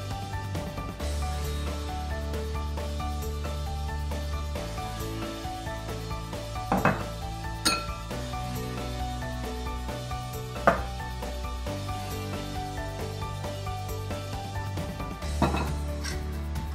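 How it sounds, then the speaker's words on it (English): Almond butter and biscuits being mixed together in a bowl, with steady stirring and occasional clinks and knocks of a utensil against the bowl, close and without talk. "I'm gonna add the almond butter and then add everything else and mix it all together."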